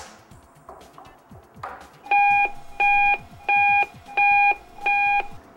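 A speaker beeper test unit pushes a steady electronic tone through a loudspeaker: five evenly spaced, loud beeps, each lasting about half a second, following some quiet handling clicks.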